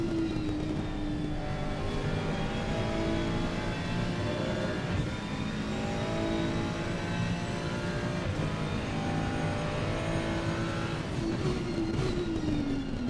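Onboard view from a Ferrari race car in a sim racing game at Zolder, its engine droning steadily and loudly throughout, with rising and falling pitch as it accelerates and shifts, alone with no talk.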